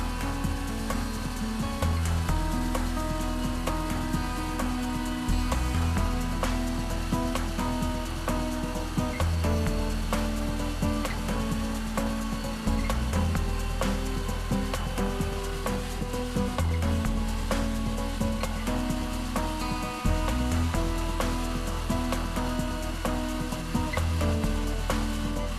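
A Peterson portable sawmill with a clip-on chain slabber cuts steadily through a log, a loud continuous engine drone and chain rasp with a rhythmic pulsing throb, running uninterrupted and without talking.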